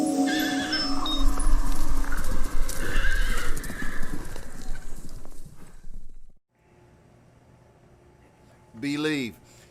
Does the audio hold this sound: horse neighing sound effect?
yes